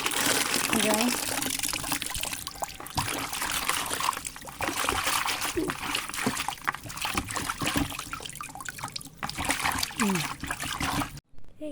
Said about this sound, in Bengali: শাকগুলোকে একটু ধুয়ে নিয়ে একবার যাই